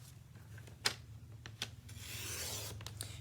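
A paper trimmer slices a sheet of thick vanilla cardstock, giving a few quiet clicks and taps followed by a brief rasping cut, faint and close with no talk.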